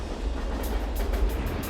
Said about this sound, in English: Riding the Ringling Brothers and Barnum and Bailey circus train, we're about to arrive in Washington, D.C.